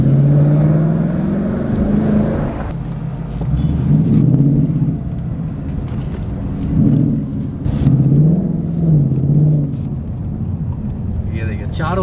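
A Ford Mustang's engine idles with a deep, thumping rumble and is blipped several times, each rev swelling and then settling, while someone talks over it.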